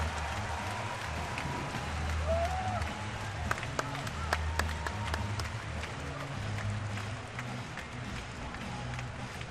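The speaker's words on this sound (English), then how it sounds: "Crowd letting him hear it." Boxing arena crowd at the final bell, a sustained distant roar of cheering and clapping under a commentator's voice.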